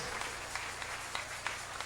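Steady applause from a crowd, a dense wash of clapping with a few sharper claps standing out, moderately loud throughout.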